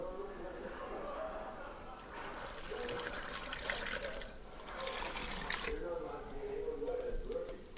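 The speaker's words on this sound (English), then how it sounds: "I already have the wild rice cooked in here. So I pour it in." Cooked wild rice for wild rice bread is poured into a container in a kitchen, giving soft wet sliding and splattering bursts in two or three waves over a low background hum.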